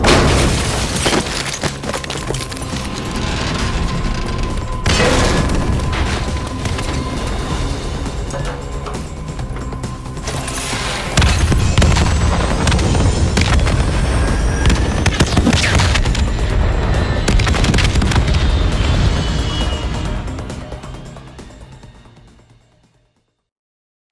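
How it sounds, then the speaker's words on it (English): A missile barrage in Call of Duty Black Ops 3 pounds down as a long run of heavy explosions and booms, loud and dense, with whistling streaks overhead before fading out. "The NRC have launched a missile barrage."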